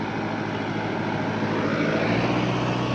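Kubota L4708 tractor with a 2.2-litre engine driving in, a steady loud diesel drone with constant rumbling and no breaks.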